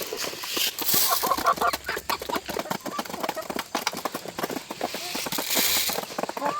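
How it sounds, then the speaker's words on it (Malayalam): Chickens being fed, a close flurry of busy pecking taps and scratching with scattered clucks, restless and uneven throughout. "കോഴിക്ക് തീറ്റ കൊടുക്കാം."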